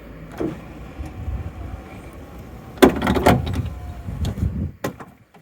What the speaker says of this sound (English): The window works. Let me demonstrate one sec.